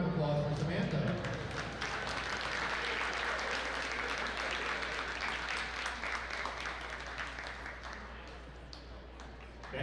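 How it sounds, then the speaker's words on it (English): Crowd at a women's college basketball game claps in a dense burst that starts loud and slowly tapers off across the gym, no voices over it. "Let's hear a round of applause for Samantha."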